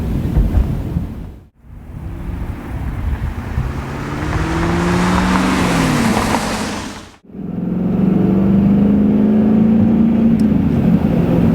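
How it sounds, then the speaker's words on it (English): A 2002 Chevrolet Camaro SS V8 with a 6-speed manual revs hard through the gears, its deep roar rising, dropping sharply at each shift, then climbing again; wind rushes over the sound. "It's awesome knowing you got a V8 this lively back here."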